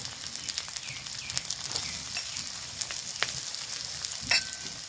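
Crushed garlic, green chili and chopped onion frying in oil, a continuous close hiss and crackle with a few sharp pops and occasional stirring scrapes, no voices.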